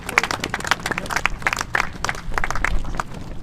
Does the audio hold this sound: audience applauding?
yes